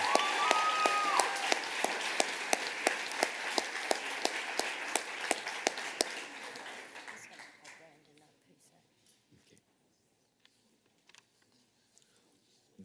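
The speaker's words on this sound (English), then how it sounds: "Let's give these folks a round of applause as well." A room of people at a high school awards ceremony gives a round of applause for award recipients. Steady, loud clapping with distinct individual claps runs for several seconds, then dies away to near silence with a few stray sounds.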